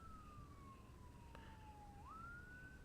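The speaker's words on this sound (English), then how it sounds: "Sounds more like an ambulance." A distant ambulance siren wails in a single slowly falling tone that then jumps back up, faint and far off over a low background rumble.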